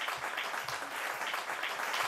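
A live show audience in Assemini applauds a singer with a dense, steady wash of clapping that holds for the whole moment, without a voice over it.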